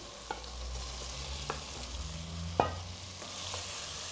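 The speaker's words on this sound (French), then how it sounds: "Je vais ajouter mes saucisses à la marmite." Sausages tumbling into a pot of browned tomato and onion for Réunion-style rougail, then stirred, giving a low steady sizzle broken by a few sharp clinks of a utensil against the pot.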